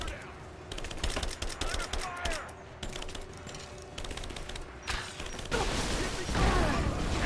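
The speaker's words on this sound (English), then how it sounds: "the assault rifle does no damage" Assault rifle fire in Rise of the Tomb Raider: rapid, repeated bursts of gunshots and clattering mechanical impacts running throughout, mixed with combat noise while a player talks.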